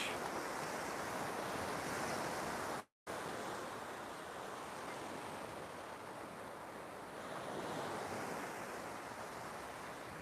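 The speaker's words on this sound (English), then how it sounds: "I knew it would be a beach, somewhere from a beach." Ocean waves wash steadily onto a beach near Hua Hin Airport, a broad continuous rush of surf mixed with wind noise on the microphone, with one brief dropout early on.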